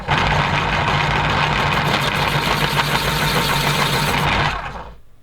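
An electric sharpener grinds a pastel pencil in one loud, continuous buzzing whir that holds steady for several seconds before spinning down and cutting off.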